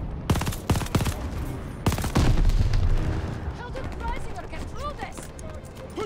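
Bursts of gunfire in the Call of Duty Vanguard video game: sharp shots and a dense rapid-fire fusillade, loud and close, with voices talking over the din.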